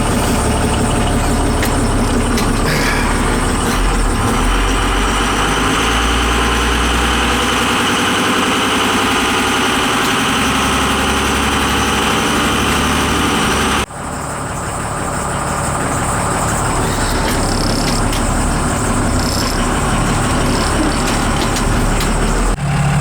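A diesel work truck engine idles with a heavy, continuous rumble close by, with little smoke. It dips briefly once and then settles back into the same steady chug.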